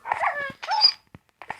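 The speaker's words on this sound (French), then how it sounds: "Ah, c'est le chien." A dog in a video game whimpers and yips in a few short, high, whiny bursts, then two or three quieter little yelps with brief pauses between.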